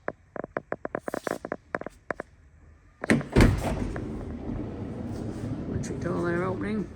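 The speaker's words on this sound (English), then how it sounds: "Electric door there opening." Electric sliding side door on a 2023 Volkswagen Transporter T6.1 Highline Kombi, a series of short clicks followed by a louder sustained motorized whir and rumble as the door moves, close and fairly loud.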